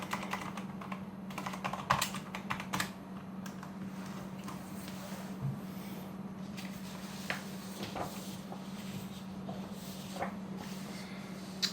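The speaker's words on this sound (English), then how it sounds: "now you can see what I am typing" Continuous typing on a computer keyboard during an Arch Linux installation, a rapid irregular run of close key clicks over a steady low electrical hum.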